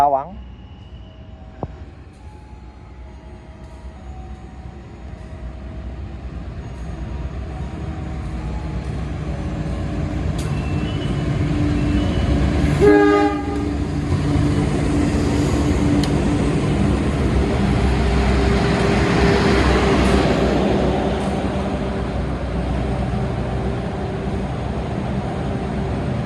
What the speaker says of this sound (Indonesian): Rangkaian kereta api Banyu Biru masuk di jalur 1 stasiun Semarang